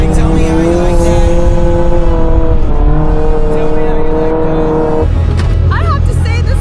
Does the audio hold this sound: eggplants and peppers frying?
no